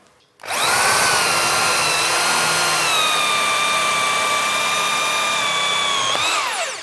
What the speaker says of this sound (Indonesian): langsung kita coba untuk mata bor kayu 10 mili ya. Jadi maksimal 10 mili kita pakai mata bor kayu 10 mili ke kayu sono kembang